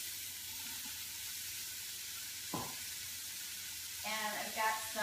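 Red and green peppers with celery fry in a pot for Louisiana-style gumbo, a steady low sizzle running throughout, with a brief scrape of stirring midway and some clattering toward the end.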